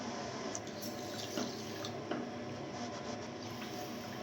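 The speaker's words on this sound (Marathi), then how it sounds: "दीड कप साखर घ्यायची यामध्ये दीड कप पाणी घालायचं" Water poured onto sugar in a pan to make syrup for amla murabba, a steady soft splashing wash with a few faint drips and clinks, close and continuous.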